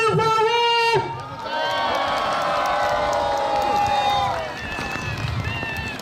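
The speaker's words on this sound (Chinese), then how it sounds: "各位来向我们的国旗来掌声欢呼！" At a New Year's Day flag-raising ceremony in Longtan, a large outdoor crowd cheers and applauds loudly in a sustained roar of voices and whoops, after a brief amplified voice at the start.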